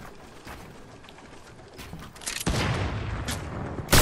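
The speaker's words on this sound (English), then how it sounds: "I'm getting shot again." Video game gunfire in Fortnite Battle Royale, scattered shots early, then a dense burst of rapid firing in the second half ending in a loud crack, with no speech.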